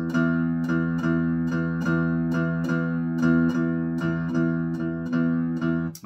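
Guitar with the open low E (sixth) string ringing, played as a steady repeated pattern of picked notes with a regular beat, loud and close with no talk.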